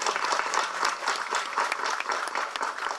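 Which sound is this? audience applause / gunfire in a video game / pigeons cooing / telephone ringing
audience applause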